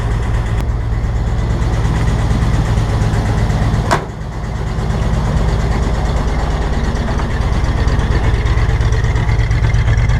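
The engine of a newly bought plow truck idles steadily with a low, rumbling throb, close and loud, broken by a single sharp click partway through. Nobody speaks.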